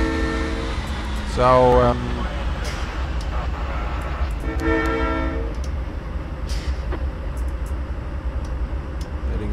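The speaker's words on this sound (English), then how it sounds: "Then we have to wait for the whole train, this long train, to enter out." A long train pulls out of a siding under a constant low rumble, with two loud horn blasts, one near two seconds and a longer one around five seconds. A voice speaks briefly.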